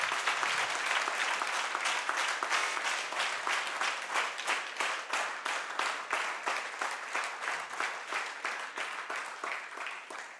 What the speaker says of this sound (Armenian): Եկեք բարձր, շատ բարձր ծափահարենք նրան։